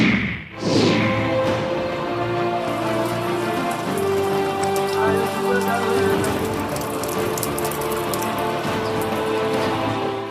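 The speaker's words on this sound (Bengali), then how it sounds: "কয়েকদিন আগে নিম্নচাপের জেরে টানা বৃষ্টি" Steady, heavy rain from a low-pressure system pours down across West Bengal, drumming evenly and densely on surfaces throughout, close and continuous, with no voices.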